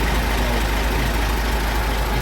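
A 2017 Isuzu Giga FVZ 34 P 6x4 truck with a 285 PS diesel engine runs steadily at close range, a dense, even rumble with no pauses or talk.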